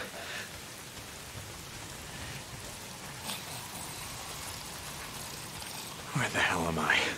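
Steady rain falling in the video game Days Gone, a constant hiss of drops with faint rumbles, and a brief burst of louder sound near the end.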